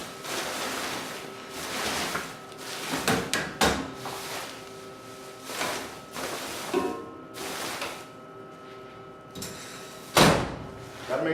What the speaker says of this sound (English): We open up the front door and start putting in the trash